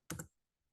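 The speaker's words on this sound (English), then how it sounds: "here I'm going to just type .NET" A short burst of keystrokes typing a command on a computer keyboard, a quick cluster of close clicks lasting a fraction of a second, then near silence.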